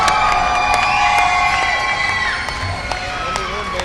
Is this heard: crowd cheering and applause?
yes